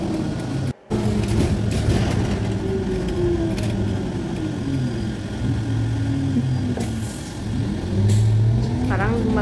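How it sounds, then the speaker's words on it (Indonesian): Steady traffic noise of cars and trucks moving along a busy multi-lane road resembling a highway, continuous with engine rumble, near and fairly loud throughout, with a brief dropout near the start. "memang area yang dipenuhi dengan mobil-mobil sih ini"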